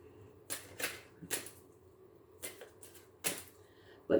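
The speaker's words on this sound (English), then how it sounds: "Let's pull a couple more cards for you" Tarot cards being pulled and shuffled, giving a handful of short, crisp papery flicks and snaps spaced irregularly, close and moderately loud against a quiet room.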